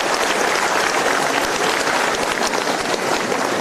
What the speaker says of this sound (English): big round of applause to all of you for making this successful in your journey.